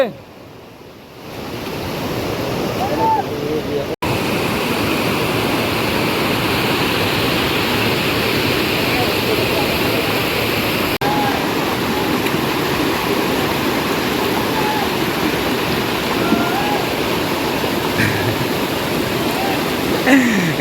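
A river waterfall in the Konkan roars as a loud, steady broadband wash of rushing water, continuous and close, briefly quieter at the very start.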